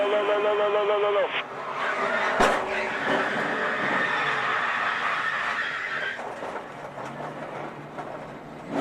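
NASCAR stock cars wreck on track as a car slides straight up the banking, a loud roar of engines and tire skidding rising and falling with a sharp impact, with an announcer talking over it.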